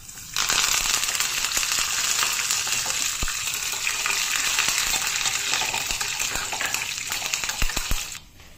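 A loud burst of sizzling and spluttering as curry leaves hit hot oil with the gas turned off, a dense crackling hiss that holds steady for several seconds, then cuts off.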